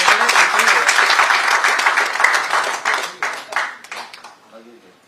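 At the Cashew Fest Goa 2023 curtain raiser, an audience applauds the festival logo with dense clapping that thins into scattered claps, while a voice briefly surfaces near the end.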